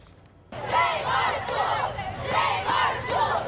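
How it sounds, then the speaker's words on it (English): Crowd of students and parents protesting a subway expansion outdoors in a park, a loud sustained roar of many voices shouting together in rising, rhythmic chant-like swells after a quiet start. "Hundreds of students and parents are protesting the Westside Subway expansion"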